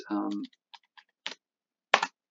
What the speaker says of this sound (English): if we type in fight knight